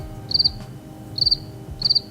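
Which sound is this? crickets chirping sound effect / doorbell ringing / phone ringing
crickets chirping sound effect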